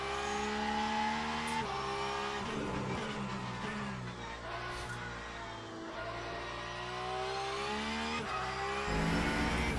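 A Porsche GT3 race car engine in Le Mans Ultimate, loud and sustained with rising and falling revs, shifting tones and a whine on the downshifts, with no talk.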